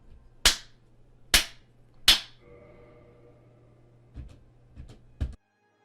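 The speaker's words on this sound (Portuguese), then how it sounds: "ele até configurou o botão de voltar para ser ativado com um som de palmas" Three sharp, loud hand claps ring out about a second apart, serving as a game controller input, followed by a few quieter claps and clicks.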